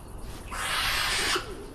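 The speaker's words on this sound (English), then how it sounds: "The unmistakable call of the young of her own kind from an owl breeding box" Young owls call from an owl breeding box, a loud hissing screech that rises abruptly and holds for about a second before cutting off, with quieter rustling before and after.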